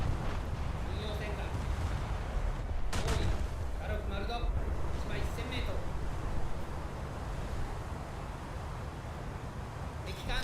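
Naval gunfire in the video game World of Warships during a battle, heavy booming salvos over a dense rumbling wash of game noise and sea ambience, loud and sustained with a sharp burst near the start.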